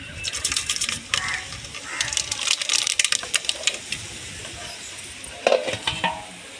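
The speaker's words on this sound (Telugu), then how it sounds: "ఆయిల్ అయితే వేడెక్కింది ఇప్పుడు ఇందులో తిరగమాత కింద వేసి" Tempering spices sizzle in hot oil in a home kitchen, a close, loud crackling with bright pops and spits, joined by a few metallic clinks of a spoon against the pan.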